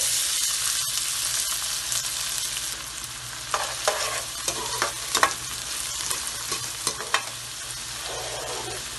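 Onions frying in oil in a cooking pot (degchi), a steady sizzling hiss with scattered crackles and occasional stirring scrapes, close and fairly loud with no talking.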